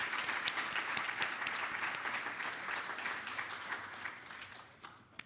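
Steady applause from a sizable audience, dense clapping sustained for several seconds before tapering off at the end.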